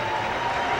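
Rangers–Bruins hockey arena crowd producing a steady, loud wash of cheering and murmur, unbroken and uniform across the short moment.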